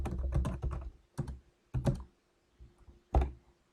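Keys clatter on a computer keyboard as notes are typed into an outline, coming in quick bursts of close, crisp taps separated by short pauses, with no talking.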